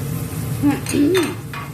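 Vegetable fried rice with two colours of bell pepper and grapes is stir-fried in a pan: a short soft sizzle with a few scraping and clinking utensil strokes, close and moderately loud.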